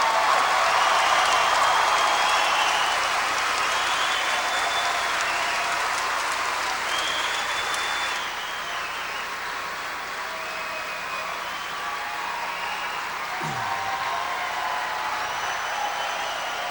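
Sustained applause from a crowd at a St. Joseph's college basketball game, the last regular-season game of an undefeated season, loud and steady throughout with cheering mixed in before it eases slightly in the second half.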